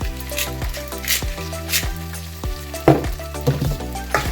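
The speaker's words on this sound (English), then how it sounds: "Give that a stir once again." Taco meat sizzling in a pan while being stirred: a steady close frying hiss with periodic scraping strokes, over a background of music.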